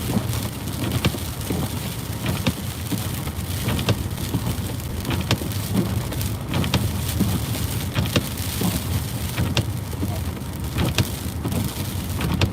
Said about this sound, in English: Little snownado, little surge in wind that just blew by